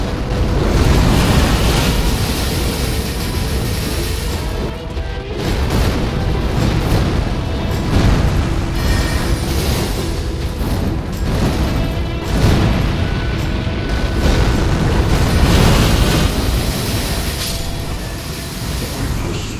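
Crystal Release sorcery in Elden Ring rains crystal shards down on a boss, producing a dense, continuous roar of booming, crashing impacts that swells and dips at full loudness for around twenty seconds.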